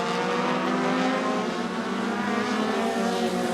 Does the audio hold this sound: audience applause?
no